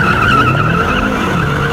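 A Mercedes E63 AMG S, BMW M6 Gran Coupe and Jaguar XFR-S launching together off the line in a drag race, a loud sustained engine howl with squealing tyres, close and steady throughout.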